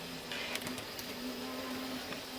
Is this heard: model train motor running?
yes